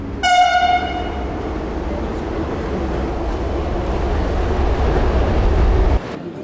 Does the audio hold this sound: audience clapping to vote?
no